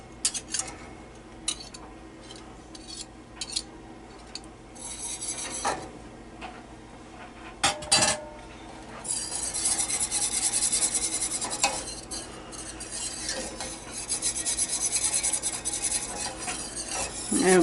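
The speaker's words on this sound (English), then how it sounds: "Now I'm going to put in my whisk." A whisk working almond milk concentrate in a pot in an RV kitchen. Scattered metal clinks come first, then a continuous close scraping and swishing that rises and falls in bursts.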